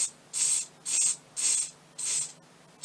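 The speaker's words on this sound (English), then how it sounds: "And then I'm going to spray these as well." Lacquer is sprayed onto buttercup sugar flowers in five short, even bursts of loud, close hiss, each separated by a brief silence.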